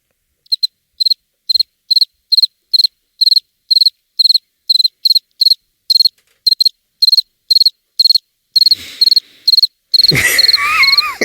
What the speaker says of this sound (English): Turn off the crickets.